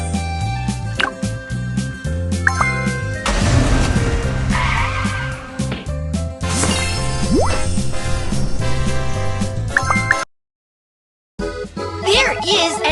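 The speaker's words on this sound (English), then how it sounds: "Fire truck." A fire truck drives in a BabyBus kids' video game, with cartoon engine noise and tire skids layered over upbeat looping game music, then a brief silence before more music.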